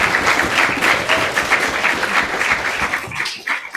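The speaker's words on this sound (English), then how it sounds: "Let's give them another round of applause." Audience applause at a university debating semifinal, steady dense clapping from a sizeable crowd filling nearly four seconds, fairly loud and continuous before thinning slightly at the end.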